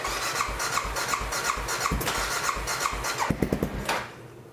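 An Aprilia Pegaso 650 motorcycle engine running on choke, idling close by with a rough, uneven pulsing and a squealing mechanical tone, then a few quick revs before the sound drops away.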